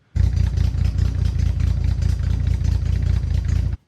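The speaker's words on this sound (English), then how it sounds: "So when it idles, it sounds like a muscle car." A 1972 Datsun 240Z with Weber carburetors and headers idles up close, its engine putting out a loud, lumpy, rhythmic burble that starts abruptly and holds steady.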